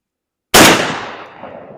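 A Panzer Arms M4 clone shotgun with a full choke fires a low-recoil 9-pellet 00 buck reload at 7 yards, giving one sharp, loud blast that decays quickly into a fading outdoor echo after a moment of silence.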